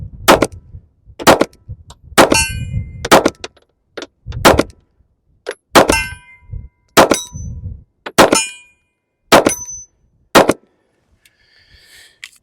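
A Smith & Wesson Bodyguard 2.0 pistol fires PPU rounds in about ten sharp, close, loud shots spaced roughly a second apart, each a crisp crack with a brief ringing tail, outdoors with nothing else in between.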